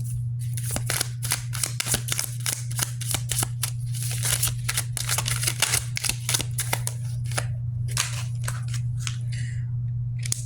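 Tarot cards are shuffled and pulled in a rapid run of crisp riffling snaps, close and steady over a constant low hum, with a few brief pauses and no talking.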